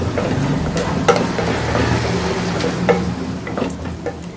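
Goat spleen frying with turmeric in a pan, with a steady close sizzle and scattered scraping stirs throughout and no voices.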